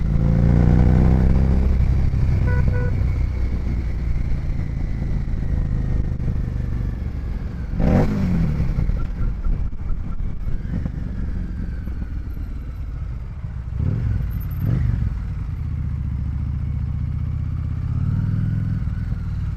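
A Harley-Davidson Street 750 motorcycle engine thrums loudly and steadily while riding, with heavy wind roar and a couple of brief passing swells from other traffic, no one speaking.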